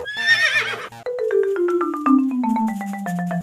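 A donkey brays close and loud: a rough, raspy burst, then a long drawn-out call that slides steadily downward in pitch.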